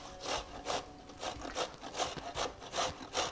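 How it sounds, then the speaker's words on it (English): Carrots grated on a metal box grater at an angle make quick, rhythmic rasping strokes, about three per second, close and clear, with no other sound. "I like to put carrots at kind of a 45-degree angle to the box grater"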